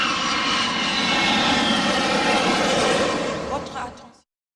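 Airplane engine drone inside a GameCube game, a steady loud broadband roar that holds for about four seconds before cutting off, with game voices and noise mixed in.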